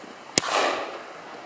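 A single shotgun blast at clay targets on an outdoor shooting ground, one sharp close crack followed by a spreading echoing tail.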